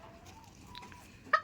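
A short Serama chicken on a farm gives a brief, sharp cluck close by near the end, after a stretch of quiet background murmur.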